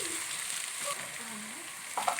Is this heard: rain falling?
no